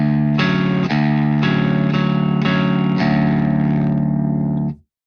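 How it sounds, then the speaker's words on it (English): Electric guitar playing the second bar of a riff: a chord struck five times in steady rhythm, loud, thick and slightly distorted, ringing out before cutting off. "So the second bar sounds like this."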